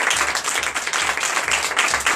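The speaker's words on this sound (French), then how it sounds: "Hey, donnez de vivre acclamation à Jésus." A church congregation at a Sunday worship service in Benin applauds in acclamation, a lively, dense clatter of many hands with a faint underlying rhythmic thump, sustained throughout.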